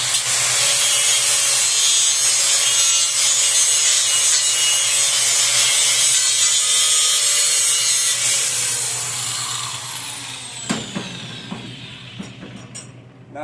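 A grinding wheel trims sheet metal during rust repair on a Jeep YJ, giving a loud, steady abrasive whine for about nine seconds before it winds down and trails off into scattered clanks.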